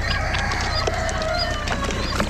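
Chickens crow and cluck constantly at a busy poultry auction, where an Old English trio is up for sale, against a dense barnyard din of other fowl nearby.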